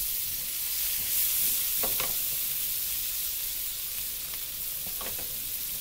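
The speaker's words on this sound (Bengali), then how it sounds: "মাছ এখন ফ্রাই করা হয়ে গিয়েছে" Hilsa fish frying in hot oil gives a steady, close sizzle throughout, with a few louder crackling bursts standing out from the continuous hiss.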